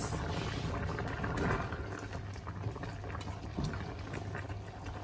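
A pot of coconut milk stew with chicken wings and vegetables bubbling at a rolling boil, steady gurgling and popping up close, with a constant low background rumble.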